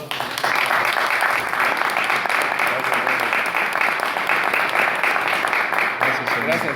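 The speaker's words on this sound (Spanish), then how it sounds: "quiero pedir un aplauso para nuestro hermano Noel" A church audience breaks into loud, sustained applause that fills the room evenly from start to finish, with voices faintly mixed into the clapping.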